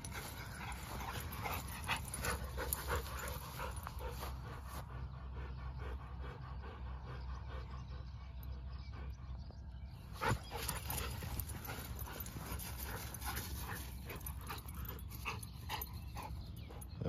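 Dogs pant and whimper close by, with rustling movement and a brief sharp knock partway through; the breathing continues steadily under outdoor noise.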